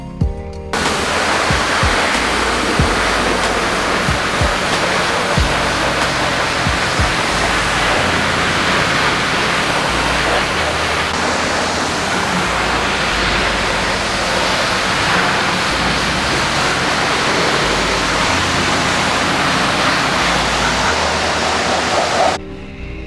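Water sprays steadily onto a car engine during washing, a loud continuous rushing hiss that fills the whole stretch without pause.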